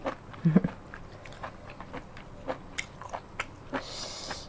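Enoki mushrooms dressed in mala sauce are bitten and chewed up close, giving a string of small crisp crunches and squelchy chews, with one louder bite early on.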